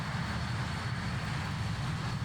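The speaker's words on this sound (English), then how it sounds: "Just listen to that engine." Engines of a BAE-146 airliner spooling up for takeoff in Microsoft Flight Simulator: a steady, moderately loud jet roar with a low rumble and no speech.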